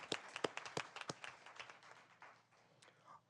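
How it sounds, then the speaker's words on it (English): Scattered hand clapping from a small audience at a school board meeting, a few sharp claps early that thin out and fade over a few seconds, fairly quiet. "One more round of applause for Stephen, Gil, and Jay."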